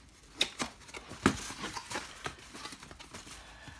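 A package containing a French coffee press is opened, giving quiet scattered snips, clicks and crinkling taps at an irregular rhythm, close by with no speech.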